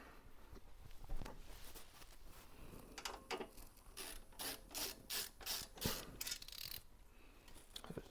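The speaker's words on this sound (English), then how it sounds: "Take that screw out." Screws being worked out of the case of a Gateway 2000 Family PC P5-75, with light metallic clicks and rubbing of a screwdriver turning, a run of evenly spaced scraping bursts in the middle, close and fairly quiet.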